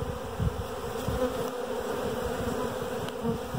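Honeybee swarm fanning at the hive entrance after being placed in front of it, a dense continuous buzzing hum with steady rhythm, fairly close and moderately loud throughout, no voices.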